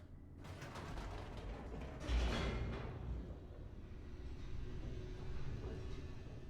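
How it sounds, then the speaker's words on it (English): A video-game elevator in The Stanley Parable descends with a continuous mechanical rumble and creaking, a heavier clunk partway through, then a steady whirring drone. "The elevator raced downward, plummeting towards an unknown fate"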